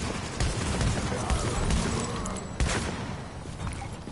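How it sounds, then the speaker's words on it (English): Shotgun blasts from a video game boom through a dense, noisy battle mix, with a couple of sharp loud reports standing out over constant rumbling background chaos. "Damn, this shotgun takes his life away so quick."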